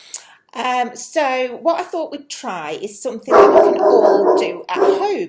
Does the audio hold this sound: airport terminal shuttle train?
no